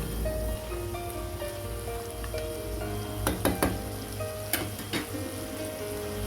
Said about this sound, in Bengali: দেখতে পাচ্ছেন আমি আলু এবং চিকেনটা ভালোভাবে কষিয়ে নিচ্ছি